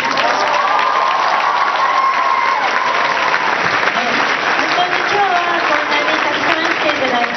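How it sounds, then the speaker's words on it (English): Sustained audience applause at the Anime Expo 2009 convention panel for Yun Kouga, a dense, loud roar of clapping with some cheering and crowd voices mixed in throughout. "please give another round of applause"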